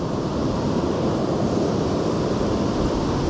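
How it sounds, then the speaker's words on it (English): Strong wind roars steadily against the microphone, a continuous broadband rush with no pauses or voices. "It's kind of windy over here."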